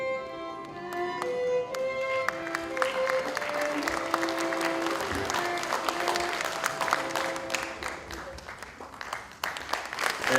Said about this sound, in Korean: 학술상을 수상하신 분께 다시 한번 축하의 박수를 부탁드립니다